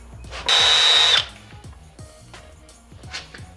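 A power drill bores into a brake pad mount during a Miata LS engine swap, a single loud, close burst lasting under a second, followed by light clicks and handling noises.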